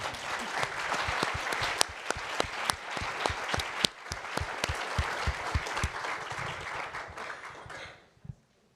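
Applause from an audience closing a panel discussion on Indigenous knowledge and resilience, a sustained crowd clapping with some sharp nearby claps that tapers off toward the end into quiet.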